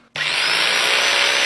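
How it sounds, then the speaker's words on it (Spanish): An electric hammer drill starts abruptly and runs loud and steady, a harsh high-pitched whine held close up with no pauses. "hazle con el martillo eléctrico."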